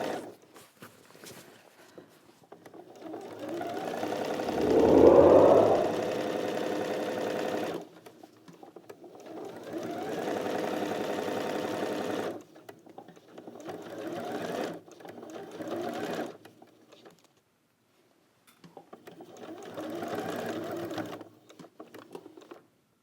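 A sewing machine stitches through lined curtain fabric in several separate runs, each a steady mechanical whir. One burst sounds louder and heavier than the rest, and quiet pauses fall between the runs.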